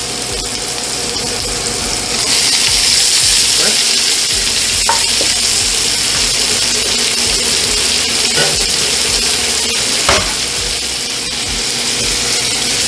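Thyme and garlic fry and sizzle in a pan while being stirred, a loud steady crackle with scraping spoon strokes and occasional knocks against the pan.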